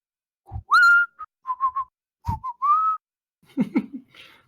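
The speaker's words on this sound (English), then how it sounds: "I'm just gonna start whistling." A person whistles a short tune alone: a rising opening note, a few quick chirpy notes, then more tones and a breathy trailing phrase, all close and clear with nothing else behind it.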